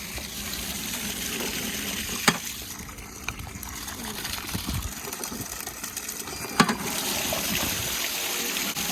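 Water rinsing an Intex above-ground pool during spring maintenance, a continuous splashing gush with a couple of sharp knocks, fairly close and steady, no speech.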